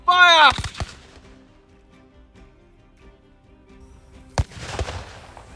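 Historic cannons fire a volley at Glastonbury Abbey: a loud close bang opens, then a second sharp report follows a few seconds later with rumbling echo, over faint crowd murmur.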